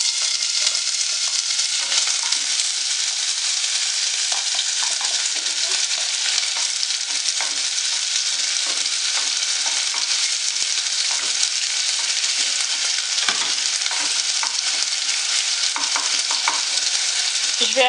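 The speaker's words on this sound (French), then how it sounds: "j'ai commencé à chauffer de l'huile. Je vais mettre mes oignons." Onions fry in hot oil in a saucepan for a tajine malsouka, a loud, steady, close hiss and crackle that holds on without a break, with faint stirring scrapes and no voices.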